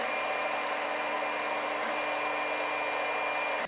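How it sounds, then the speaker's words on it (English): The power supply fan inside a Wanhao Duplicator i3 3D printer's control box gives off a loud, steady whirring drone with a faint tonal whine. It runs unbroken and alone, then cuts off abruptly at the end. "The control box itself houses the power supply with, in my case, a hugely loud and poor quality fan."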